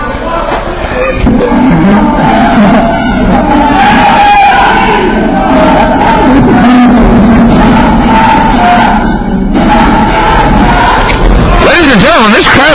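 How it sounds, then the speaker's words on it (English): A wrestling crowd at an independent anniversary show chants "Lone Star sucks" in unison, loud and close, with rhythmic crowd voices and yelling filling the arena throughout. "Lone Star sucks is what this crowd is starting to chant here"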